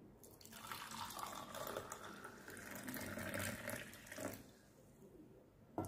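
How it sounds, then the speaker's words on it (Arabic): Boiling water is poured from a glass over half a spoonful of cumin in a kitchen, giving a steady soft splashing pour of liquid that tapers off, quiet and close with no talking. "هننزل عليهم برضو كوبايه ماء مغليه يا جماعه"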